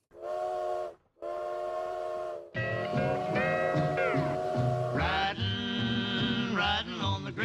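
A toy train whistle is blown in two short steady hoots, then in a longer, louder run of shifting, wavering whistle tones, close and without talk.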